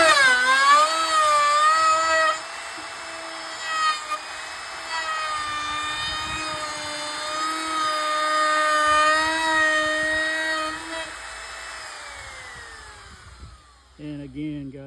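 A router fitted with a carbide 3/8 round-over bit cuts along a 1x6 board, giving a loud high whine that dips slightly under load and then spins down near the end, followed by faint handling noises.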